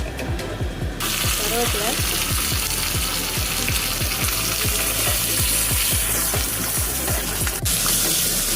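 Mustard seeds, urad dal and curry leaves tempering in hot oil for peanut chutney: a dense, rapid run of sharp crackling pops over a steady sizzle, close and loud throughout.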